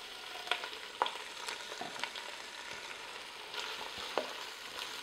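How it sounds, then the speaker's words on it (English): Sausage fries in olive oil in a Ninja Foodi, a steady soft sizzle and crackle with occasional pops and light stirring clicks, quiet and close with no talking. "we're going to throw the sausage in there and let it cook"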